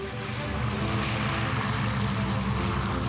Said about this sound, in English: First up, C-54 Skymaster, Spirit of Freedom.